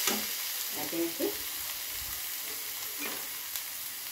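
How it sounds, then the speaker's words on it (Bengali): Chopped onion frying with garlic paste in a pan gives a steady, even sizzle and crackle that runs the whole time, moderately loud and close, with no voices. "এটা আমি ভালো করে ভেজে নেব।"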